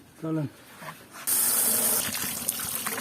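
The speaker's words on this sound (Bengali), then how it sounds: "আমি মিডালু ধুয়ে লইছি" Tap water gushes steadily into a sink or container while sweet potatoes are washed in a home kitchen, a continuous splashing rush that follows a brief bit of speech.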